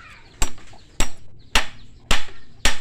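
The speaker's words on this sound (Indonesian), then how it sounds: "Pakulah dengan kuat dengan mempergunakan" A hammer drives a nail into a bamboo stand for a painting or photo, five sharp, loud strikes spaced about half a second apart, each ringing briefly, with no talking.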